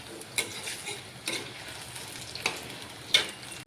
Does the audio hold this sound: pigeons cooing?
no